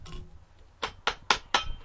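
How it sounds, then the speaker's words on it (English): Four sharp hammer blows from a soft-faced mallet on a scrap-condition deactivated VZ 24 Mauser rifle, fairly close, struck at an uneven pace after a quiet moment. "Soft face hammer."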